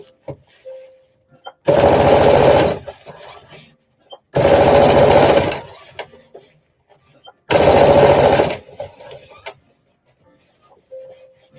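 A sewing machine under-stitches a dress seam allowance in three loud, close bursts of about a second each, separated by quiet pauses with small clicks and handling sounds.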